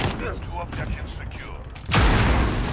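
A video game gun unloads in a sudden, loud burst of rapid fire near the end, with someone talking over the shooting.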